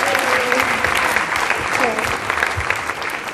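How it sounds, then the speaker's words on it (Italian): Applause for two singers at a music battle contest, a steady dense patter of clapping from a crowd, fairly loud and continuous throughout with some voices mixed in. "vi volevo fare un applauso perché state tutte due bravissime nonostante l'emozione"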